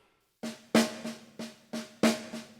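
A complete drum fill with accented single strokes running into double strokes, heard as a brisk, even series of crisp close drum hits with louder accents falling every few beats, played alone.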